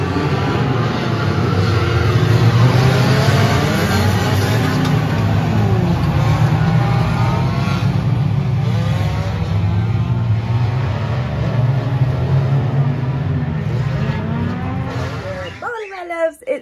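Banger racing cars revving on a race track, a loud, continuous engine roar with shifting pitch that holds steady throughout and then cuts off abruptly near the end.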